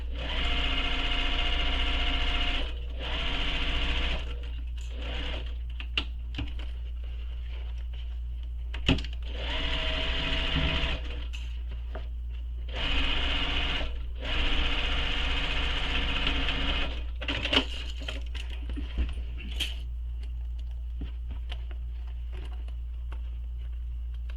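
A sewing machine stitches a backpack panel in several bursts of steady, buzzing running, separated by short pauses and small handling taps, close and clear with no talking.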